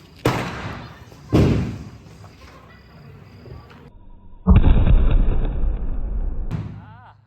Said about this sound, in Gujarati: અમારે બોમ્બ ફોડવા.